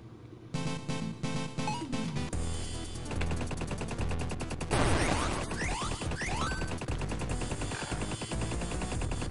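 Rapid arcade gunfire in the shooter Riddled Corpses EX, continuous bursts of shots with crashes and blasts layered over game music, steady and loud throughout.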